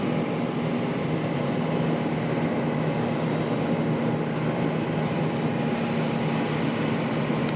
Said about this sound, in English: next arrival, we've got one coming in from San Juan, Puerto Rico, American Airlines 783, an A321